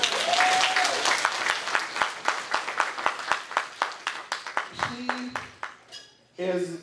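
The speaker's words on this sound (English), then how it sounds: "Give her a round of applause." A crowd at a community event with an African drum collective claps, the applause thinning into sharp, evenly spaced rhythmic claps before voices take over at the end.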